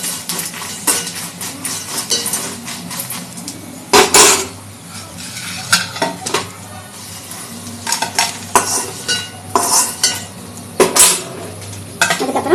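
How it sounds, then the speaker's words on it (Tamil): Dried red chillies fry in oil in a pan, a steady sizzle broken by frequent loud scrapes and clinks of a spoon stirring against the metal, close and with no voices. "கொஞ்சம் எண்ணெய் போட்டு மிளகாய் வச்சுக்கலாம்."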